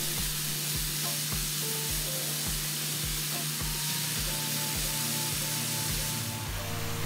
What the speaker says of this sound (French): j'aime bien utiliser ma petite spatule pour faire revenir le tout. Donc, on fait revenir ça pour bien mélanger tous les ingrédients